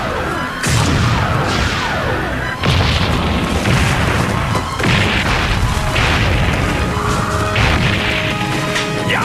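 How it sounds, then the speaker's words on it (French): Repeated loud booms and crashing impacts from explosions in a televised castle attack, with an explosives cart involved, bursting every couple of seconds close and heavy, debris-like crackle trailing each blast. "Ces explosions vont détruire le château à ce rythme-là."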